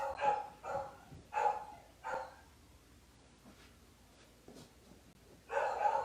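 Several dogs bark in short bursts, a cluster of loud barks at the start, a quieter stretch with faint yips, then another loud bark at the end, close by indoors during a restorative yoga class.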